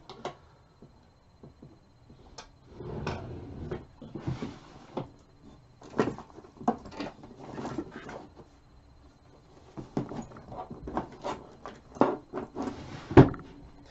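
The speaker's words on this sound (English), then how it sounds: "I'm just looking in my pedals drawer out of frame here." Guitar effects pedals rattle and clack as someone rummages through a drawer of them, a series of irregular knocks and taps of varying loudness close by, with no talking.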